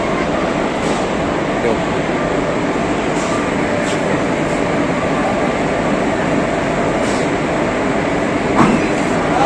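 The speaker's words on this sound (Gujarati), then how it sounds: "આ ટ્રેન અત્યારે જો રાજકોટના સ્ટેશનથી નીકળી ગઈ છે" A new Rajkot to Bhuj train at Rajkot railway station gives a continuous loud rumble with occasional brief clanks and squeals over the full length.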